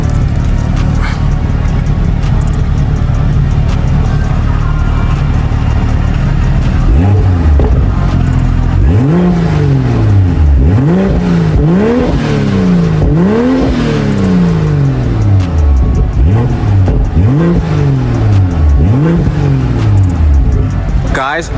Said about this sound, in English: this car is warm enough so I am able to give you guys a rev